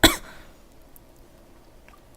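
A single short, sharp cough bursts out at the very start, close and fairly quiet, then fades into near silence.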